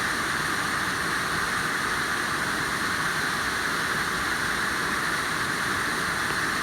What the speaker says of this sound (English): I think this is one of the more impressive waterfalls.